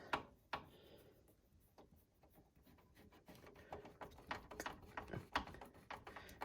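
A screwdriver tightens screws to secure an EVGA GeForce RTX 3080 FTW3 video card in a PC case, giving quiet ratcheting clicks and scrapes that come in a loose, irregular run, growing busier toward the end.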